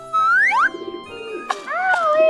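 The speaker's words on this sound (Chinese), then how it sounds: "好多鸽子过来了" Pigeons gathered close by at a Snoopy theme park, giving short cooing and gliding calls in two brief bursts separated by a quieter pause.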